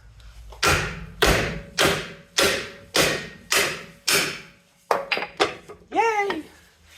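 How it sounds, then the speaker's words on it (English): Seven heavy metallic hammer blows on a Land Rover Defender swivel pin land at a steady rhythm, followed by a quicker cluster of lighter taps and a short vocal exclamation. "Now, it's hammer time."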